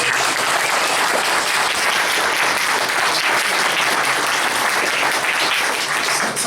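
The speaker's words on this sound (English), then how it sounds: "let's give them a big round of applause" A big round of applause from a crowd at a San Jose community meeting on deportations. Sustained, dense clapping holds steady and loud from start to finish with no talk over it.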